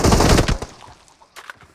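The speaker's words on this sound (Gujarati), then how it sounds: "જો હું ઊભો બોમ્બ નાખ્યો" A bomb goes off in a multiplayer shooter video game: a loud, close broadband blast for about half a second, then a decaying rumble and a couple of fainter sharp pops.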